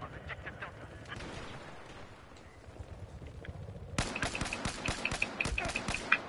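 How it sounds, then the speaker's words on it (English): Battlefield 4 gunfire rattles in quick bursts, distant and muffled at first, then turning louder and denser with sharp repeated cracks through the latter part of the clip. "I hear gunshots, so I'm concerned."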